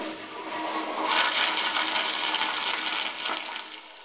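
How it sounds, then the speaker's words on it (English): A Kohler Wellcomme toilet flushes loudly, a close rushing surge of water that swells, holds for a few seconds and then tapers off. "the toilet's extremely loud"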